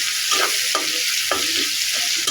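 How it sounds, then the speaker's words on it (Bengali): Onions fry in a pan with a steady, bright sizzle, broken by a few short stirring strokes at a regular pace, close by and with no voices. "পেঁয়াজগুলি ভালোভাবে ভেজে নেব"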